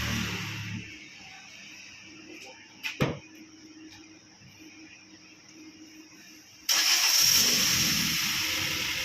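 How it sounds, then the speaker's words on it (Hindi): A modified car with a free-flowing exhaust sits quiet with faint background hum and a single clunk. Then the engine fires and settles into a loud, raspy idle that carries on to the end. "इमरान जरा स्टार्ट कर प्लीज गाड़ी को।"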